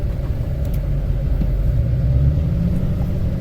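A vehicle crossing a wet ford gives off a loud, continuous low engine rumble from close by, holding steady for the whole stretch with no speech.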